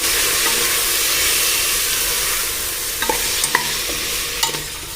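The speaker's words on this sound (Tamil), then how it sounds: "ஒரு முருங்கைக்காய் இதெல்லாம் கட் பண்ணி வச்சுருக்கேன். இதை வந்து நம்ம இதில் சேர்த்துக்கலாம். நல்லா வதக்கிடலாம்." Cut drumstick and vegetables sauté in a pan for arisi paruppu sadam, a steady loud sizzle and hiss with a few brief spoon scrapes and clinks near the end, close by and without speech.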